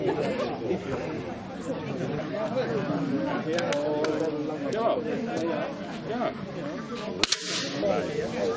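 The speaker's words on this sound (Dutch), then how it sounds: "Manon Teus opende het schieten op de vogel." Rifle shots ring out at a Sacramentsgilde guild bird-shooting contest in Bergeijk. Sharp single cracks sound now and then over steady crowd chatter, with one louder shot near the end.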